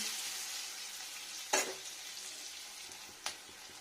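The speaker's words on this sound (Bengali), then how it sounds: "তারপরে দিয়ে নেবো পেঁয়াজ এটা পেঁয়াজটা দিলাম ফ্রাই ফ্রাই ফ্রাই" Onion frying in a pan gives a steady, soft sizzle throughout, with two brief sharp scrapes or stirs of the utensil against the pan.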